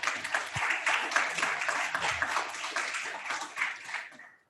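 An audience at a press conference claps in a dense burst of many hands, loud at first and then thinning out and fading over the last second.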